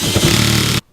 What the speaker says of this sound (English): My drill is getting broken.